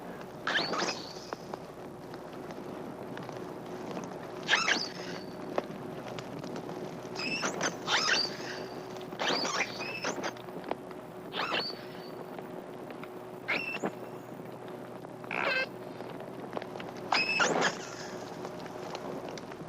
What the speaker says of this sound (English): Our unhappy dolphin provides us with a great variety of recordings of her voice.